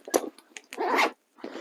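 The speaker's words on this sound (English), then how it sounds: "There is another zipper pocket on this side, and it opens up really big." Zipper pulled open along a pocket on vintage Hartmann luggage, a few quick rasping zips with a short pause before a final longer pull, close and fairly quiet.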